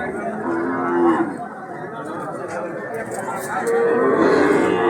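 Cattle at a cow market after rain, including red Sindhi calves, low moos sounding close by over a steady background of murmuring voices and outdoor bustle.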